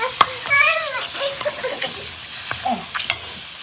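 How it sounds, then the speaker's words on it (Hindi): Food puffing and popping as it fries in ghee in a deep pan, with a steady sizzle, a few sharp pops and a short burst of bubbling crackle near the end. "ये देखिए कैसे फूल रहे हैं, फट फट हो रही है"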